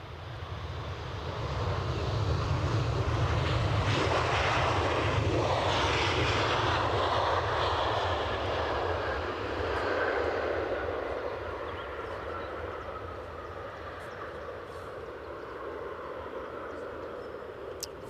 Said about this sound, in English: Transavia went around earlier, now come back for another go, inbound from Rotterdam